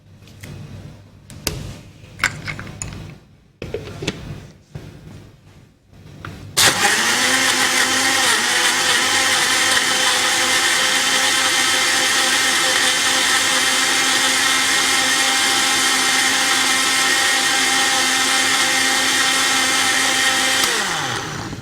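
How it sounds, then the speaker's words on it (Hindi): A blender starts up loud and runs steadily for about fifteen seconds, whirring through milk, bananas, mint leaves and gulkand, after a few quieter clatters and knocks of ingredients going into the jar. "अच्छा सा ब्लेंड करना है आपने"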